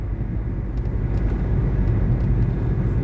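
An airplane passing over Kuril Bishwa Road makes a loud, steady low rumble that builds slightly and holds throughout, with no speech.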